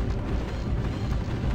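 An explosion in the Starship Troopers: Terran Ascendancy game, a deep, heavy rumbling boom that rolls on steadily for about a second and a half.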